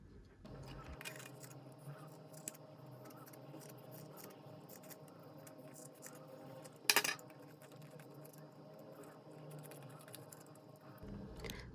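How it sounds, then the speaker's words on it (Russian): Small scissors snip around a homemade fabric Christmas ornament, producing quiet, close, irregular clicks and cuts over faint room noise, with one sharper burst of snipping near the middle and no talk. "Затем маленькими ножницами. И все вокруг подрезаем."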